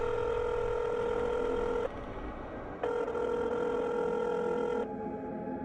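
A phone rings out unanswered in a quiet room, giving two long electronic ring tones separated by a short silence, steady and clear with nothing else heard.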